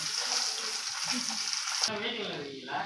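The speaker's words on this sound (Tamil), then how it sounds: "இந்த காஞ்ச மிளகாயை நம்ம அதிலே போட்டு வறுத்து எடுத்துகிட்டு போகிறோம்" Dried red chillies frying in a kadai, a steady close sizzle and crackle with stirring, the hiss dropping away partway through as the pan is moved, while a voice talks over it.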